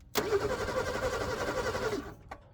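A 1986 car engine, unrun for 35 years, cranks with a rapid, rhythmic churning for about two seconds, then stops, followed by a single faint click.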